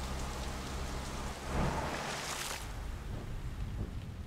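Steady rain falls in Like a Dragon: Infinite Wealth, a dense, even hiss of drops with a brief swell in the middle.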